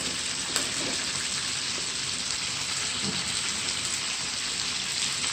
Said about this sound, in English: You're gonna let each side fry for 5 minutes.